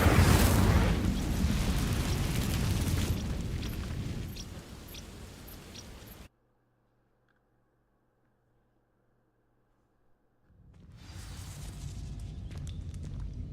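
Fire spell igniting dry vines in Hogwarts Legacy: a loud whooshing, roaring blaze that fades over several seconds, cuts to near silence, then crackling burning noise returns.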